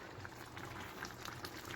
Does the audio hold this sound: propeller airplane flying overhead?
no